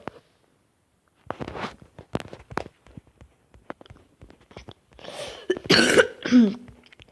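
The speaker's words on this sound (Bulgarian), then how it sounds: "Съжалявам, обаче имам кашлица." A person coughs in a few rough, close bursts near the end, after scattered clicks and soft knocks while a wrestling video game is played.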